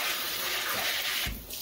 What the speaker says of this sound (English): Okay, so here we're just gonna rinse it off.